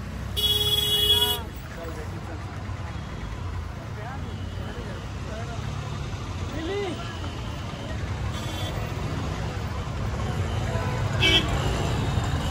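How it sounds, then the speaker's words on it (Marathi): Slow jammed road traffic on a pilgrimage route toward Shirdi, engines rumbling steadily as horns toot near and far, one sharp honk at the start, with people talking throughout. "फुल ट्रॅफिक झालेलं आहे इथे बघा"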